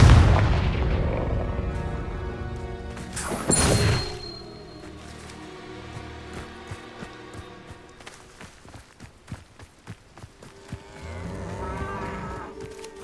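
A Confringo blasting spell from Hogwarts Legacy detonates as one sharp, heavy boom partway through, set against a busy game soundscape with scattered clanks and thuds afterward.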